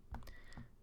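A few quick keystrokes on a computer keyboard entering a short number, two soft close clicks about half a second apart in a quiet room.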